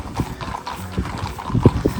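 Horses walking along the Camino Francés pilgrim trail in Spain, their hooves clip-clopping in a steady uneven rhythm at moderate distance, with a faint snort or whinny near the end.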